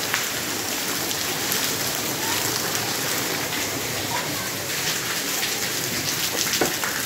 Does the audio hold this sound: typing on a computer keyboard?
no